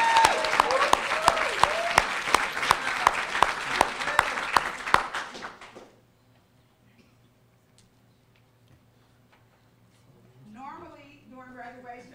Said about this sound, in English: So let's give these young men a round of applause.